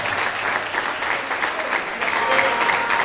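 A church congregation applauds during a worker anointing service, a thick, continuous wash of clapping from many hands throughout.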